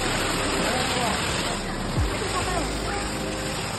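A waterfall high in the hills near Darjeeling pours with a constant, dense rushing roar that fills the scene, and a voice speaks over it.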